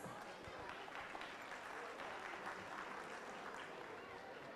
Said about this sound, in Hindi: आप सभी की तरफ से जोरदार तालियां